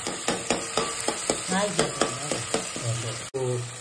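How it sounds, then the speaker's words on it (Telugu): Ginger garlic paste fries in a pan, a steady sizzle broken by a regular series of sharp spoon-against-pan knocks as it is stirred, with a brief sharp scrape near the end. "బాగా ఫ్రై చేసుకున్నాము. ఫ్రై చేసుకుంటాం."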